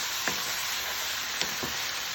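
Venison stir fry sizzles steadily in a hot pan with its juices, a continuous frying hiss with a few brief louder pops or stirring clinks standing out, close and fairly quiet.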